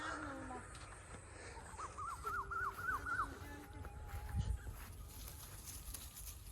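An Asian koel calls in a garden with a short run of repeated rising whistled notes at middle distance, fairly faint over a constant background hum and rustle.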